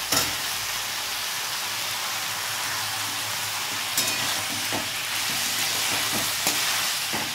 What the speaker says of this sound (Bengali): এটা আমি আরেকটু ভাজা ভাজা করে নেব